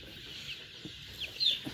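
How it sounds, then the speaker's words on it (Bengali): A drowsy, sick backyard chicken gives a few soft, low clucks close by against a faint steady background hiss. "এই যে দেখেন এই মুরগিটা দেখেন একটু ঝিমাচ্ছে"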